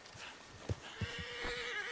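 A horse in the video game Red Dead Redemption 2 whinnies loudly while hooves thud in a few quick beats, close and clear, with no speech over it.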